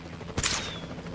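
A single gunshot from a gun in the video game Jurassic World, a brief, fairly faint crack over quiet game background.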